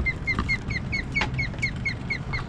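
An osprey calls near its nest in a rapid series of short, bright, regularly spaced chirps, close and clear over a low outdoor rumble.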